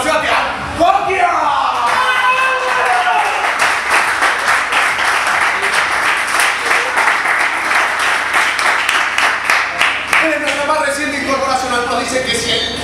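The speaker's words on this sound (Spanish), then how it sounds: "¡Fuerte el aplauso para Sebastián Coquia!" An audience at an improv comedy show breaks into loud, sustained applause for a performer, dense rapid clapping lasting several seconds with some whoops mixed in, then tapering off as a voice returns.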